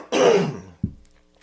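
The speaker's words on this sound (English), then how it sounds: "3 times clearing your throat in the last minute." One close, throaty throat clearing rasps loudly for about half a second, followed by a short low grunt-like catch, then quiet.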